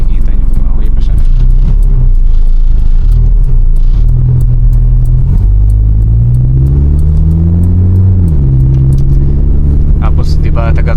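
Honda Civic with a VTEC engine and automatic transmission idling, a steady loud low rumble that shifts pitch partway through, with someone talking over it throughout.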